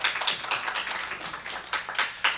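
A school board meeting audience claps in a small, uneven round of applause, the separate hand claps distinct and fairly close.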